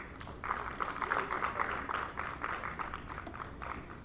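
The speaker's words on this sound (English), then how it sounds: "Another round of applause, please." A small audience at a game developers' event claps steadily for a few seconds, a moderate patter of hands with no one speaking.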